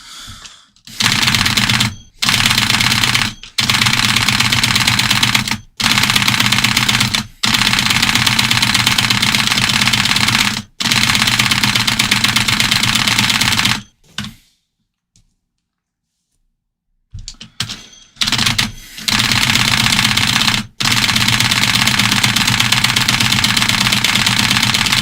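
Keyboard keys spammed in rapid, dense bursts of clicking, nearly continuous with brief gaps and a few seconds of silence near the middle, close and loud.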